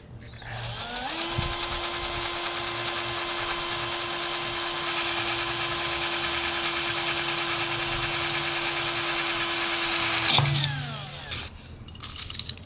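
A power drill whirs steadily at high speed for about ten seconds while drilling a box for a DIY effect pedal, then winds down and stops, followed by a few light clunks.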